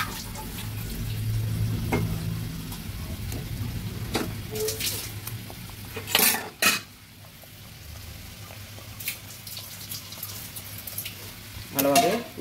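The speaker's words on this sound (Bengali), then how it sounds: "ভালোভাবে নেড়ে দিচ্ছি" Pabda fish simmers in a mustard-cashew curry in a pan, with a soft bubbling sizzle underneath and several louder scraping stirs of the spatula spread through the clip; no one speaks.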